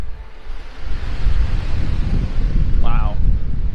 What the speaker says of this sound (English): even ignoring the wind, which is ridiculous